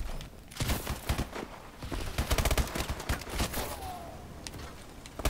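Repeated gunfire bursts from Advanced Warfare on Xbox One during a Gun Game match, a dense run of sharp cracking shots with brief gaps, loud and close, with no talking over it.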